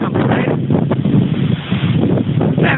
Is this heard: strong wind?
yes